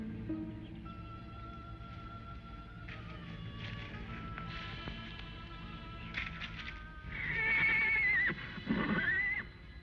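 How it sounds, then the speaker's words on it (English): Horses neigh in a Western setting, with two shrill whinnies late in the clip standing out over a busy background of faint clatter and tones. "Go out and see what's bothering the horses."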